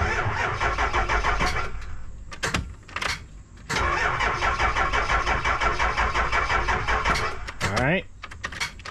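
A 7.3 liter Power Stroke diesel bus engine cranks on a jump starter: loud, close, rhythmic starter churning in several bursts separated by short pauses.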